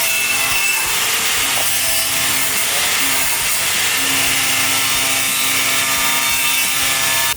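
A car floor is cut out during a body-on-chassis build, producing a loud, continuous harsh hiss and grinding rasp that holds steady for the full seven seconds.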